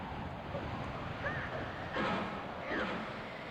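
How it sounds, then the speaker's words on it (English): In the video game Spy Fiction, a steady rushing wind fills the scene at moderate loudness, with faint whistling tones and a couple of soft swells passing through, and no one speaks. "I like these windy sounds."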